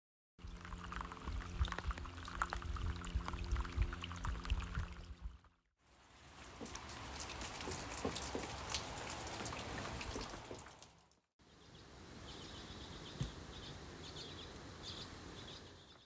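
Water pours and splashes, then rain patters and drips on a surface across several short outdoor recordings, with faint birds.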